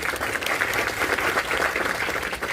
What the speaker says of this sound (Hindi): एक बार चौकीदारों के लिए जोरदार तालियां बजाइए।